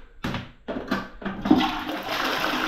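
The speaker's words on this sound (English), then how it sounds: "Flush is like a new one." A household toilet flushes after tree roots were cleared from a blocked drain at the riser bend. The rush of water is loud and close, swelling and running steadily with no talk.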